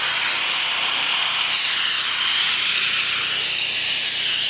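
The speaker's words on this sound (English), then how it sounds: "you just kind of just spritz it." Cleaning solution spraying from a pressure hose during house washing, a steady loud hiss that runs without a break.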